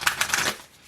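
A tarot card deck is shuffled by hand, a quick run of four or five crisp riffling flicks close to the listener, then fading to quiet.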